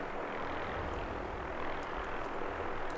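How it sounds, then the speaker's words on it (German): A Vertibird aircraft from the video game Fallout 4 flies overhead as a steady, broad engine and rotor rumble at moderate distance, holding constant throughout. "Es ist ein Vertibird oder wie die Dinger heißen."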